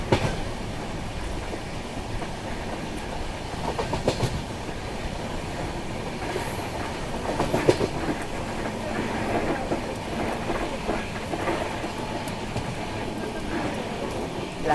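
The Garib Rath Express runs on rails near Bengaluru, heard from on board as a continuous loud rumble with steady wheel clatter, occasional clicks and faint squeals throughout.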